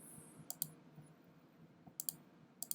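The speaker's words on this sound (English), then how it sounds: "I'm going to start by clicking point by point." Computer mouse clicked point by point while drawing shapes in Photoshop: a few sharp, quiet clicks, some in quick pairs, over a low steady background hum.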